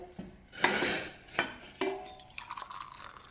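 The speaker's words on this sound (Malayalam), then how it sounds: "പൊടി നമുക്കിങ്ങനെ ഒന്ന് കുഴച്ചെടുക്കാം. നല്ല സോഫ്റ്റായിട്ട് കുഴച്ചെടുക്കണം." Wheat flour dough for idiyappam is mixed with boiled water and kneaded in a bowl, with scraping, slapping and a few sharp knocks against the side, close and without talk.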